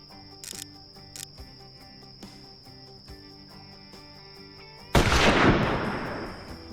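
One sharp, loud rifle shot cracks out at an animal in an African hunting video game, set against a steady chirp of crickets and light ambient clicks before the blast.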